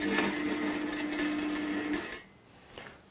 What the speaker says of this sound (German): Altes Brot heißt, ich habe Brotreste getrocknet, geröstet im Ofen und möchte die jetzt klein mahlen, klein drücken, und zwar im Fleischwolf.